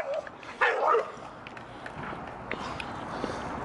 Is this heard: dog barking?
yes